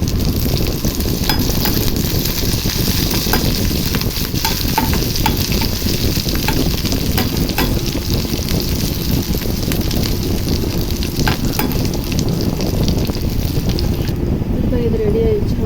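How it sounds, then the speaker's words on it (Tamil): A dried chili and curry leaves sauté in hot oil for an okra curry, giving a loud, continuous sizzle and crackle with faint stirring scrapes throughout. "ஒரே ஒரு காஞ்ச மிளகா அதுக்கப்புறமா கருவேப்பிலை போட்டு இதை நம்ம தாளிச்சிடணும் இதை நல்லா வதக்கிடலாம்"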